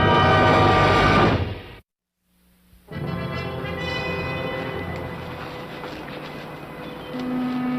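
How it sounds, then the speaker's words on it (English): A train rumbling past in a 1960s wartime setting, a loud, steady rolling roar that cuts out briefly, then returns and continues at full strength to the end with no voices. "I think I heard a train."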